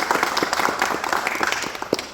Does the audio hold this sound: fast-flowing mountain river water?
no